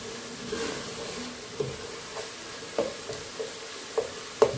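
Pork sautéing in a pan: a low, even sizzle broken by regular scraping strokes of a spatula, roughly one per second, close and moderately loud.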